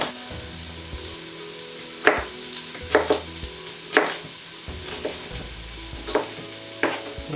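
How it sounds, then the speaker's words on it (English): Chopped onions and garlic fry in a pan for a chilli con lentil, with a soft sizzle beneath several sharp scraping stirs spaced a second or so apart and a low steady hum; no one speaks. "So the onions and garlic have been in a couple of minutes now."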